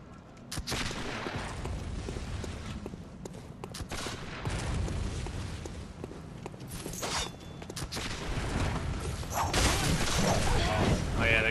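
Sniper gunfire in the video game Bloodborne: a busy stretch of sharp cracks and bursts over a dense rumbling game soundtrack, growing louder toward the end, with a voice speaking over it.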